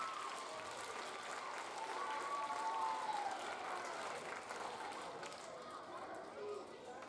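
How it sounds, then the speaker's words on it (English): A school assembly audience applauds the third grade class, a steady, fairly quiet wash of clapping with a few faint voices underneath. "One last round of applause for our third grade before they take their seats."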